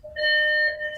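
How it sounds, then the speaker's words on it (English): A driveway alarm sounds a single loud, steady electronic tone with bright overtones, lasting about a second close by. "If anybody hears that, that's my driveway alarm."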